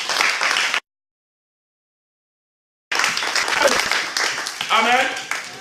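A church congregation at a Sunday service in Tours bursts into loud, dense applause, breaks off into a stretch of silence, then claps again even more fully, with cheers and a few voices rising over the clapping.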